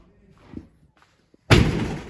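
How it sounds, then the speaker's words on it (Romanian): A door slams shut with a sudden loud bang and a rattling, ringing tail, following a few soft indistinct sounds and a faint voice. "Bă, dar se trântește ușa asta noastră!"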